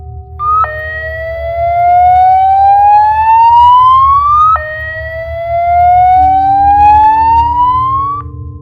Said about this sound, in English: Suddenly, the fire alarm rang,